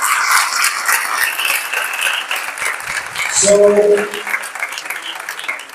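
A church congregation gives loud applause that swells and fades across the clip, with a voice speaking briefly over the clapping near the end.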